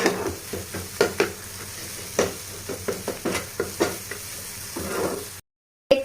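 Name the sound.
chopped onions frying in a pan for Maggi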